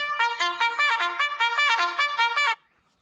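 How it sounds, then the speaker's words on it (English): A phone-style alarm going off early in the morning at a livestock barn build, sounding as a loud, rapid electronic melody of repeated beeping notes for about two and a half seconds before stopping abruptly into near silence. "That was my alarm."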